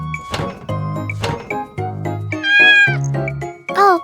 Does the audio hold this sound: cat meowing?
yes